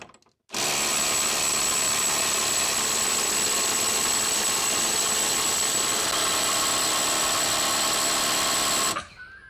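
A Hyper Tough impact wrench powered by a 9 amp hour battery runs loud and continuous at close range for about eight seconds, then cuts off abruptly.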